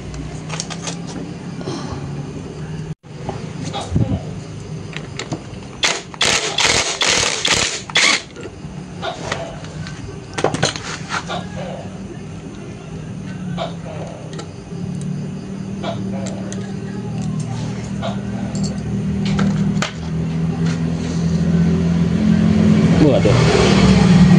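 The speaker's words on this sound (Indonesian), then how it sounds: "Oke, tinggal ini terakhir nih untuk buka baut gear" On a Yamaha Scorpio motorcycle engine stripped down for a rebuild, the lower camshaft gear bolt is loosened with a rapid burst of close ratcheting and metallic clatter. A steady mechanical hum runs underneath and someone talks over it.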